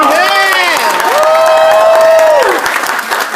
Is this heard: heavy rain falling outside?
no